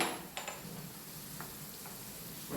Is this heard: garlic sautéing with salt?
yes